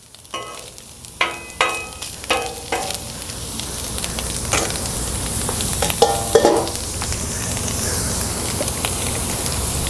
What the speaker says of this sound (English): we're gonna go ahead and get our mushrooms on.